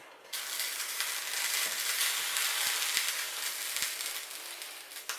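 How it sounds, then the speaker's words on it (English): Sugar and violet flowers are stirred in a pan while warming for violet syrup, making a bright continuous hiss and sizzle that starts abruptly. Occasional faint taps of the spoon sound over it, close and steady, with no speech. "you just want to stir it enough to keep the sugar moving so it dissolves"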